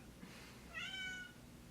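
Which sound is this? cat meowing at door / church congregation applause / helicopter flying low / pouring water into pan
cat meowing at door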